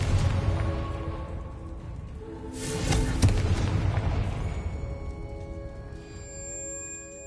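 Blasting spell explosions in the video game Hogwarts Legacy, a deep rumbling boom that swells near the middle and fades into a lingering low roar with tonal game sounds over it.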